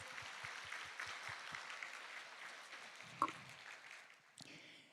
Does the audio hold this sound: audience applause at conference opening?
yes